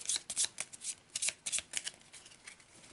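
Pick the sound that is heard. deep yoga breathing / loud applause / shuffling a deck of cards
shuffling a deck of cards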